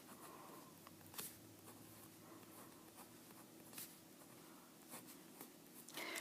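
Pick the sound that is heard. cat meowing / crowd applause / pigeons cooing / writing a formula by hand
writing a formula by hand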